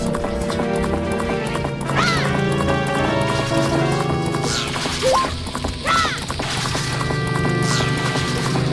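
A horse gallops in Zelda: Majora's Mask with a continuous rapid clip-clop of hooves, mixed with game music and sound effects; a neigh-like cry rises now and then.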